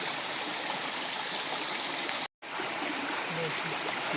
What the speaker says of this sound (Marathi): खाली पाणी येतंय